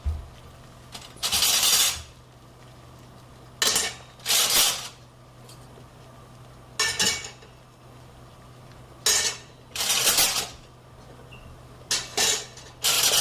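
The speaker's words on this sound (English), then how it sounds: "then you can restart adding silverware to the pot" Metal silverware clinks and clatters in short bursts every couple of seconds as it is dropped into a boiling pot, over a faint steady hum, with no talking.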